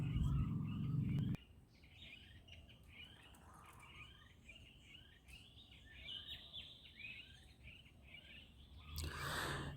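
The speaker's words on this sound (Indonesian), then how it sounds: "kita masih bisa mendengar dengan seksama suara burung-burung yang bertengger di atas pohon-pohon" Birds perched in trees near the Majapahit-era Batu Patok Gajah boundary stone chirp and tweet faintly in quiet outdoor surroundings, with scattered calls over soft ambient noise after a brief louder rustle at the start.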